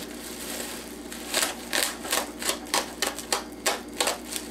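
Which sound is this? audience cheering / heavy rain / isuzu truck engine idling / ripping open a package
ripping open a package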